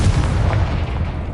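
In Hogwarts Legacy on PS5, the Confringo spell sets off a loud, close, booming explosion with a rumbling blast that fills the whole brief moment.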